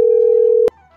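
A steady telephone ringback or busy tone sounds loudly for about two-thirds of a second during a phone call, then cuts off with a click into near silence.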